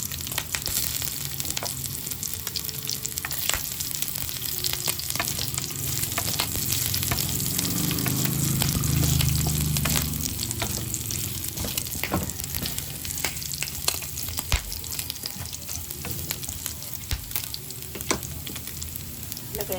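Garlic sizzles loudly in a pan alongside ground meat (giniling), a steady crackling fry that swells in the middle and carries on throughout with occasional stirring clicks and no voices.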